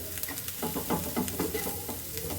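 Cooked beans are stirred into a spice mix frying in a pan, giving a steady sizzle with soft scraping stirs, close by, with no talking.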